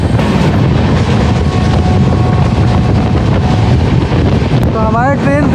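Samta Express passenger train gathering speed, a steady loud broadband rumble and wind-like roar of the moving coach, with a brief whistling squeal near the end.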